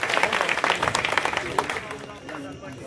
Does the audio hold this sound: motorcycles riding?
no